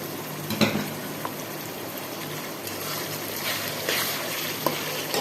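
Finely chopped tomatoes added to hot oil for a restaurant-style moong dal tadka, giving a steady, even sizzle with light crackles and occasional stirring clinks, close and continuous.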